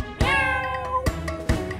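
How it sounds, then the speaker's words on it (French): A small cat meows three times, a long drawn-out cry followed by two shorter calls, close and clear with nothing else heard. "Le petit chat, petit chat,"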